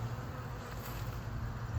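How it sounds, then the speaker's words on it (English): Honey bees buzz inside a box, a steady, close, continuous drone with no other sounds. "Yes, I hear you, bees."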